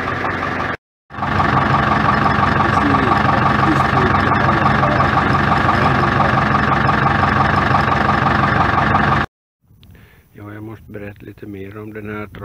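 A David Brown 990 tractor engine idles loudly and steadily for about eight seconds after a brief gap, with a low, even rumble; it then cuts out and someone speaks.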